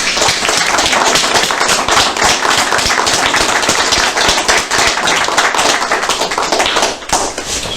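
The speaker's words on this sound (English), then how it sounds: "So I want to give y'all a big round of applause." Loud, dense audience clapping fills a city council meeting room, sharp and close with many hands at once, holding steady for several seconds before briefly dipping near the end.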